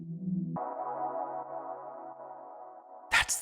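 A self-made electronic music sample meant to evoke midnight: a low tone gives way to a sustained, layered synth pad with a faint low hum beneath, ending in a brief bright noisy burst.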